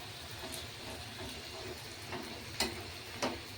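Potato and chana dal pakoras frying in oil over lowered heat, giving a faint, steady sizzle with a few sharp pops and crackles scattered through it.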